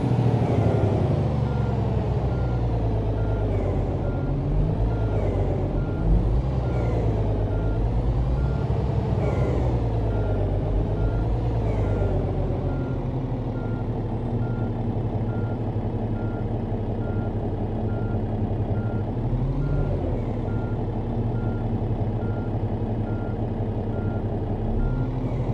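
In a truck simulator game, a truck backs its trailer toward a loading dock, with a steady low engine drone under a repeating electronic reversing beep and a few rising revs, continuous and close.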